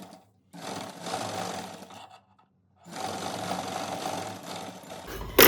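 A sewing machine stitching blouse fabric runs in two steady whirring bursts, a short one and a longer one, separated by a pause, close and fairly loud, ending with a brief clunk.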